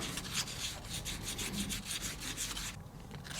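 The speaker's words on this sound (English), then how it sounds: "It's not going to take much to sand this down." 240 grit sandpaper rubbing a rear main seal for a Pontiac engine, a steady close scratchy back-and-forth rasp that runs the whole time with no voices.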